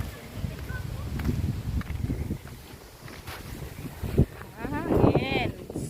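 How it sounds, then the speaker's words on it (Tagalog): Strong wind buffeting the microphone outdoors in rural Bicol, a low rumbling roar with gusty swells that persists throughout while a person speaks faintly beneath it. "Lakas na naman ang hangin dito."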